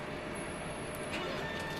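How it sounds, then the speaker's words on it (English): Steady low hum of a large-format printer's ink pump motor, a faint continuous drone without clear changes, heard alone with no talking. "I can hear the pump motor"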